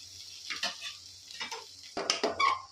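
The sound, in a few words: stirring dill greens frying in oil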